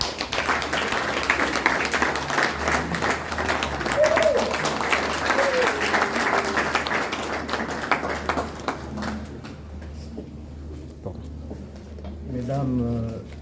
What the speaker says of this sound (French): Alors, sous vos applaudissements.